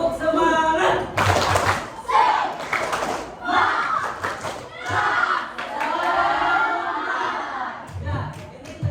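A group claps out a rhythmic 'tepuk semangat' spirit clap in a classroom-style session, in short bursts of sharp claps that alternate with a voice talking and giving cues throughout.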